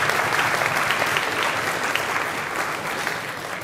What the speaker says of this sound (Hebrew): מחיאות כפיים גם לאמא